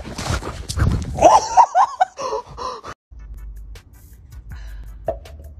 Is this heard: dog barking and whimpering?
yes